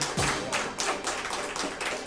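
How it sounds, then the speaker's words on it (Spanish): A church congregation claps and cheers, a dense continuous patter of many hands with a rhythmic pulse, heard at moderate level with a faint voice underneath. "Dale un aplauso al Señor."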